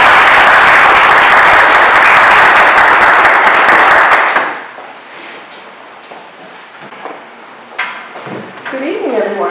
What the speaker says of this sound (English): if you'd all give a round of applause and a warm welcome to Sherry Bailey